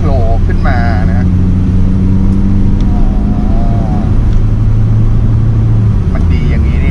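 Toyota MR2 AW11 mid-engine sports car revving up toward 4,000–5,000 rpm in traffic, a steady close engine drone with rising tones, while someone talks over it throughout.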